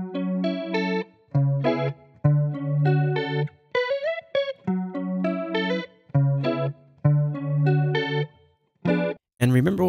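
A looped, chorus-heavy phrase pitch-shifted slightly in Maschine repeats in choppy bursts with short gaps, slightly detuned and wavering, ending in a brief noisy sweep.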